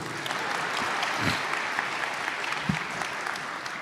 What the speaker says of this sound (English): Oh, you can clap for him.